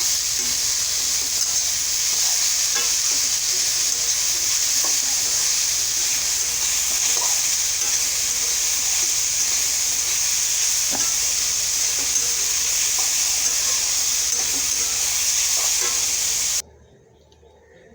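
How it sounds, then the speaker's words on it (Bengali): Steady oily sizzling of greens frying with a little turmeric in a pan runs throughout, with occasional light stirring clicks, then cuts off abruptly near the end. "এবার এটাকে ভালো করে মিশিয়ে ভালো করে ভেজে নেব"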